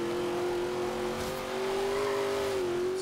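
A car accelerating in the racing game Forza Horizon 3, a loud steady engine tone that climbs and shifts pitch slightly, heard alone without talk.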